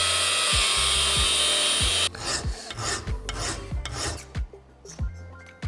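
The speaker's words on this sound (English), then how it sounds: "So let's just cut our little triangle bit out, or two, and weld them in." Cutting a small triangle piece from 3 mm steel sheet for a jet tank racer build: two seconds of loud, steady, harsh grinding, then rough, uneven rasping strokes broken by sharp metallic knocks.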